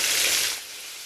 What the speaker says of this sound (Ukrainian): І обсмажую їх з двох боків до коричневої скориночки